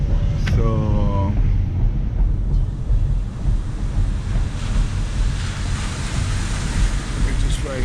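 Ocean waves at Oceanside beach in San Diego: a constant loud wash of surf and wind rumble fills the scene, with a brief voice near the start.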